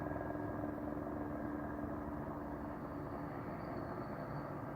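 A police helicopter hovers overhead at night, heard as a steady low droning rumble that stays constant throughout, somewhat distant and alone with no talk.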